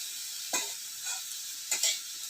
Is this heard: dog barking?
no